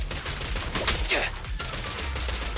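Rapid bursts from an automated turret in the action game Zenless Zone Zero, a clattering stream of shots with short breaks, mixed with game effects and a voice speaking over it.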